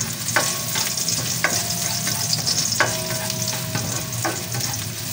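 Ginger sautés in a little hot oil in a pan for a Filipino fish dish, giving a steady close sizzle with periodic scraping stirs of a utensil, and no voices.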